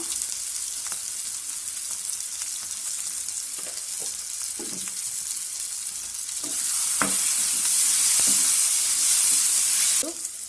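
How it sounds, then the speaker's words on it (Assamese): Chicken fries in a pan with a steady, close hiss. A few dull knocks and scrapes from stirring come through, and the sizzle swells louder for a couple of seconds before easing off. "এয়া ফ্ৰাই কৰা হৈ গৈছে।"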